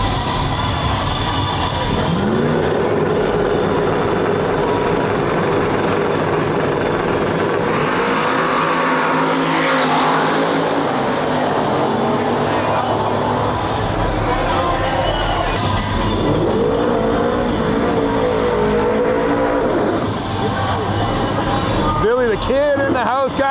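Fox Body Mustang drag racing on a far lane of a drag strip, a loud sustained engine roar with a rising pass mixed into crowd noise and an announcer talking throughout.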